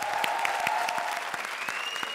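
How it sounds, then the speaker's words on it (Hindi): An audience at a TV comedy show claps, a dense steady patter of applause with a few sharp individual claps, fairly close and sustained, with faint voices underneath. "जोरदार तालियां"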